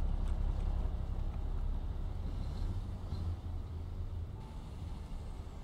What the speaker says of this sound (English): So now the truck is unloaded.